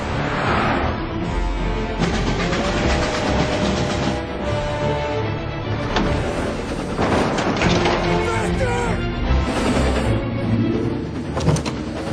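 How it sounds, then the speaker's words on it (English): A train rumbles past in the video game Mafia, a loud, dense, continuous roar of rolling wheels and engine noise that runs throughout, with voices and other vehicle sounds mixed in. "He's trying to beat the train!"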